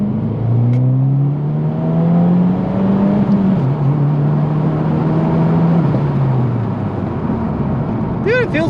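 A Subaru WRX running a stock intake with its charcoal filter removed drones loudly from inside the cabin, engine pitch climbing and holding under acceleration with a steady road roar beneath.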